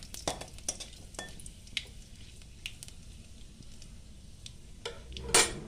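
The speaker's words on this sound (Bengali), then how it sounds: "এবার আমি তেলের উপরে 2টো শুকনো লঙ্কা, অল্প পরিমাণে কালো জিরে" Two dry red chillies and a pinch of black cumin fry in hot oil in a pan, giving a low steady sizzle. Sharp utensil clinks and stirring scrapes land at irregular moments, close by and without talking.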